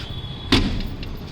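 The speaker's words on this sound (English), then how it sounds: "So this is the way we close the back door." The rear door of a modified 2014 Mahindra Thar with a hardtop shuts with a single solid thud, close by, over a low steady background hum.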